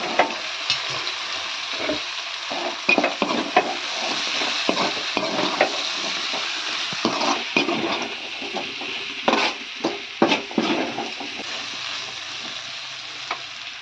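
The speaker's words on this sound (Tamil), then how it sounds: "சாம்பார் பார்த்தீங்கன்னா தாளிச்சு ஊற்றி கொஞ்சிட்டு இருக்கு" Steady hiss of oil sizzling in a pan as sambar tempering is fried, with frequent spoon scrapes and clinks against the pan throughout, close up.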